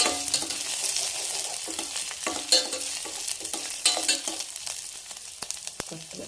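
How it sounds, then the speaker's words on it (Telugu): Ginger and garlic paste frying in a pan produces close, busy sizzling mixed with repeated scraping of a spoon stirring it, continuous and fairly loud with no speech. "అల్లం వెల్లిపాయ పచ్చివాసన పోయిన దాకా వేయించుకోవాలి."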